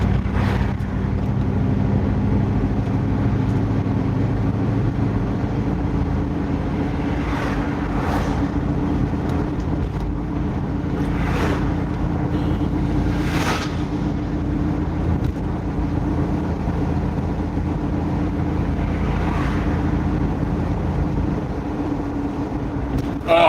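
A car engine with its muffler removed drones steadily and loudly throughout, a continuous low rumble with wind buffeting, while people talk over it.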